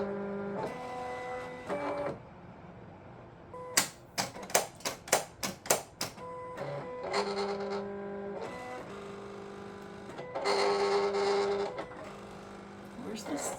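A Silhouette Portrait 3 cutting machine running a calibration sheet, with bursts of motor whirring and a rapid series of sharp mechanical clicks and ticks, fairly close, while people talk quietly between the movements.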